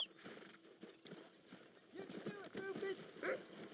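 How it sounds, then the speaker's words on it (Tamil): A horse's hooves clip-clop in the Red Dead Redemption video game, a steady run of close, clear thuds with a brief whinny-like tone and someone talking over it. "வா குதிரை."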